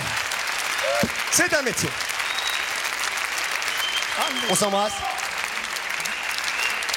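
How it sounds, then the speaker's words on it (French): Studio audience applauds Catherine Lara on a French television variety show, steady broadband clapping throughout while a host and guest talk over it. "Applaudissements pour Catherine Lara."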